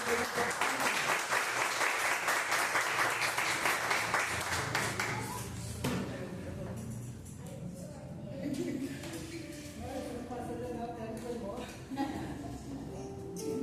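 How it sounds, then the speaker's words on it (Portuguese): A church congregation claps together during a Portuguese-language sermon, loud and dense for about five seconds, then fades out while a voice speaks and a few scattered sounds continue. "As palmas do Senhor."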